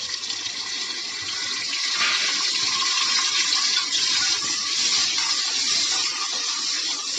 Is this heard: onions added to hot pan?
yes